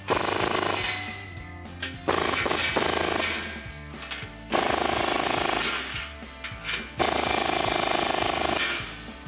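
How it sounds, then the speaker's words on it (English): Nuts on the exhaust flange clamps of a 2019-2023 RAM 1500 with an MBRP XP Series dual exhaust are run down with a power tool in four or five loud, close bursts separated by short pauses. "we're gonna go back and make sure we have all of our clamps tightened. So I'm gonna start up here with these two nuts on the flange."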